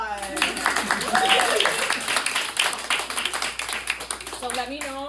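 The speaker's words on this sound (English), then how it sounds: "A round of applause." A small audience claps at an indoor workshop, a brisk run of sharp hand claps with voices talking over them.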